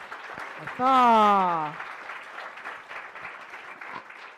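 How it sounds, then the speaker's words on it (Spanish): Audience applause at an Afro-diaspora summit gathering, a continuous patter of clapping throughout, with a voice calling out a short word partway through. "Aplauso."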